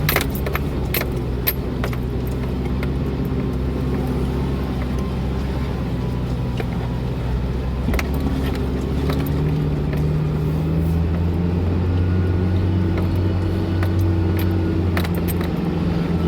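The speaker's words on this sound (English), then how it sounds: "I'm giving it some gas in first gear low." A Toyota Tacoma engine drones steadily as the truck climbs a forested jeep trail uphill in low first gear, its pitch rising and falling slightly, while rattles and knocks from the cab come through over it.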